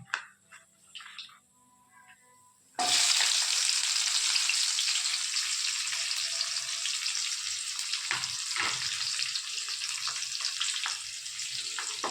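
Mustard seeds, lentils, fenugreek and fennel sizzle in hot oil for a fish curry tempering. Quiet clinks and faint handling come first, then a loud, dense, crackling sizzle starts suddenly and carries on steadily up close.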